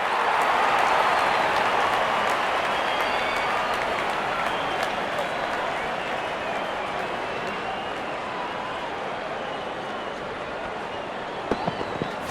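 Crowd at a Pakistan versus New Zealand cricket match applauds a boundary, a broad, sustained wash of clapping and cheering that slowly fades, with commentary talking over it.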